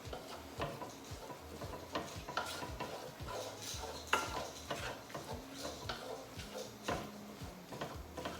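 A spoon stirs a seasoned meat mixture in a pan with salt and pepper, giving quiet, repeated scraping and clinking strokes in an irregular rhythm, close by and alone.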